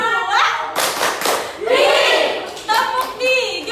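Classroom students clap their hands on a teacher's command in short group bursts of claps, fairly close, with brief pauses between rounds.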